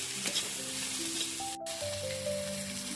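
Chopped tomato goes into a pan of softened cabbage for poha, and the mix sizzles and crackles steadily close by while it is stirred, with no talking.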